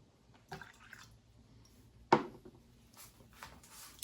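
Vinegar for a marinade syrup is poured into a small glass, making a few faint, brief liquid splashes and drips with one clearer pour midway in a quiet kitchen.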